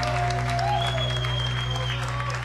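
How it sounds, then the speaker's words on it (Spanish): An audience at a comedy show applauds for Gustavo with a steady patter of clapping under a constant background hum, moderately loud and continuous throughout. "les pido un aplauso para Gustavo"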